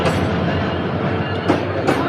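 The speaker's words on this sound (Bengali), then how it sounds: "ট্রেন আসতেছে আস্তে আস্তে" The Sonar Bangla Express rolls slowly into a station in Bangladesh with a loud, steady rumble and clatter of wheels and carriages, heard up close throughout.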